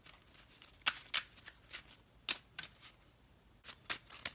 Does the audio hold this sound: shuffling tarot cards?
yes